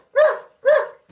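A dog barking twice, two close, loud, evenly spaced woofs with short silence between them, in a British soap drama scene.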